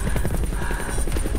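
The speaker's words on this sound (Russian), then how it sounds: "Слышишь звук, как вертолет?" A helicopter-like whirring heard inside an apartment, a steady loud chopping pulse with rapid rotor-like beats that runs unbroken through the whole moment.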